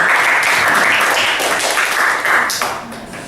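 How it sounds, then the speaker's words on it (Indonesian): Classroom applause from a grade 8 class, dense and steady throughout and fading slightly near the end, with a few louder claps standing out. "Ya, beri aplaus dulu."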